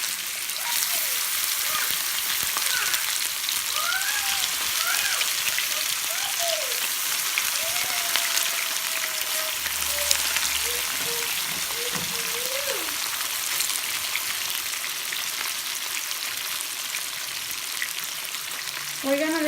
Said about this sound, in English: I'm gonna start frying my chicken thighs.